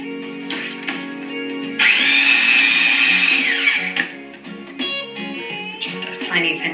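A food processor whirs in a loud, steady pulse of about two seconds as it mixes almond cake batter, with someone talking before and after the burst.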